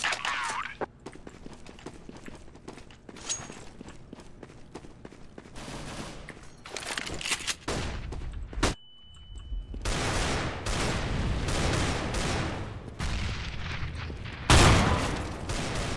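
Intermittent gun bursts from a weapon in Counter-Strike: Global Offensive co-op play, scattered sharp shots and clatter over about sixteen seconds, with a louder blast near the end and talk mixed in.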